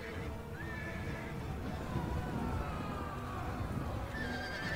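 Cavalry horses in a Total War: Thrones of Britannia battle whinny in shrill rising calls, one early and one late, over a steady dense rumble of hooves and battle noise at moderate distance.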